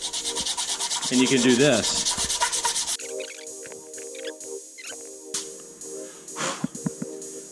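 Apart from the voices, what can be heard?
sanding a jig on sandpaper laid flat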